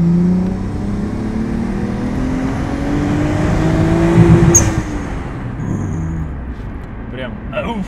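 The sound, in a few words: Nissan Skyline car accelerating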